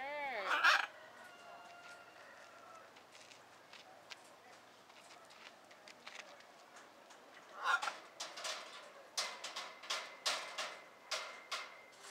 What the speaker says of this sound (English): Is that a bird?